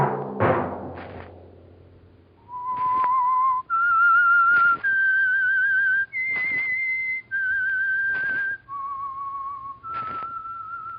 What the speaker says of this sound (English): Let that whistle be your signal for the Signal Oil program, The Whistler